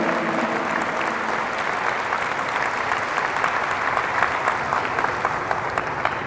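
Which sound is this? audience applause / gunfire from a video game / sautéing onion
audience applause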